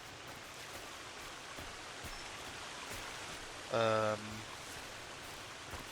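A waterfall in the video game Sons of the Forest rushes in a constant, quiet wash of water noise; one short spoken word briefly rises above it midway.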